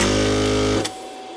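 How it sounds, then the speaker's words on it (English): An electric desoldering tool with a built-in vacuum pump runs with a steady, loud motor hum up close, then cuts off abruptly with a brief click, leaving quiet. "I'm going to use my desoldering tool, which has a vacuum pump built into it."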